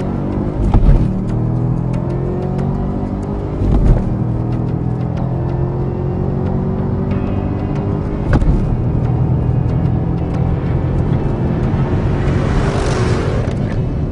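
A 2013 Chevrolet Camaro ZL1 engine revs loudly to about 4,000 RPM and climbs in pitch, dropping briefly at several gear changes before pulling hard again; no talking.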